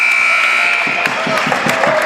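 A basketball game buzzer sounding at the end of a half in a boys' gym, a steady electronic tone lasting about a second amid crowd noise and a commentator's voice.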